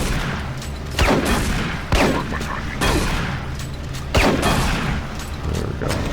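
Repeated blasts of shotgun fire in Doom 3 BFG Edition, roughly five heavy booming shots spaced about a second apart over a constant gameplay din.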